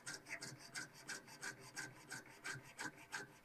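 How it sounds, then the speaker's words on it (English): Hand sawing into wood while cutting out a Mudhorn emblem for a Mandalorian pauldron, with steady rasping strokes in a regular back-and-forth rhythm, close and fairly quiet, no talking. "I am actually sawing into the wood right now."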